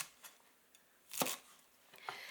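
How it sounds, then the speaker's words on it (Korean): Korean chives are sliced into 6 cm lengths on a cutting board, heard as a few faint, isolated knife chops, with one firmer cut in the middle and quiet pauses between strokes. "먼저 지급받은 호부추를 요구사항에 맞게 6cm로 썰어주시면 됩니다"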